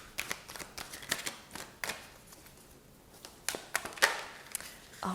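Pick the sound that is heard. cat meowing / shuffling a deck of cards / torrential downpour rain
shuffling a deck of cards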